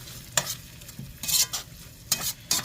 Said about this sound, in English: Now we're going to saute these onions for about 2 minutes in this butter.